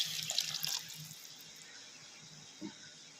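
Water splashes and pours from a mixer jar into a cooking pot at the start, then tapers to a quiet trickle, with a small clink near the end.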